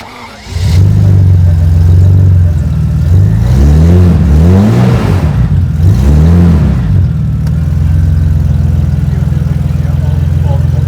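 BMW 850CSI engine running after its fault codes were cleared, a loud steady idle with two rising and falling revs in the middle, close up.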